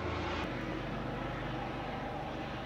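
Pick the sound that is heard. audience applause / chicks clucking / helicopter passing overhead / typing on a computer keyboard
helicopter passing overhead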